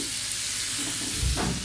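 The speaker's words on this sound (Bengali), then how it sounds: "আলুটা ভাজা হচ্ছে" Potatoes frying in a pan for aloo dum at an outdoor barbecue party, a loud dense sizzle heard up close, with a brief stirring scrape near the end and no talking.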